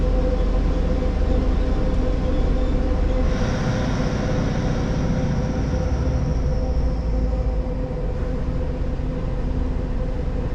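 Steady loud rumble and rail roar inside a moving passenger train between Cardiff and Newport, a continuous low drone with a hiss that swells midway and then eases, with no talking.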